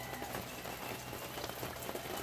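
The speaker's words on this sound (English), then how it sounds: "it's raining" Rain falls as a steady, dense hiss of pattering drops, fairly faint and even throughout, with no voices.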